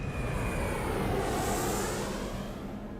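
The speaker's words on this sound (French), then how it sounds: "L'avion s'élève." Ethiopian Airlines airliner on its takeoff climb, a continuous loud jet-engine roar with broad hiss and a faint rising whine, steady throughout with no voices.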